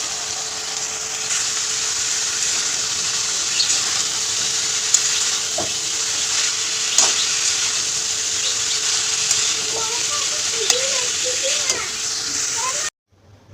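Spices and tomato fry in a pan ahead of cabbage, giving a steady broadband sizzle that runs the whole way before stopping abruptly near the end, with a few faint clinks and stirring knocks on top.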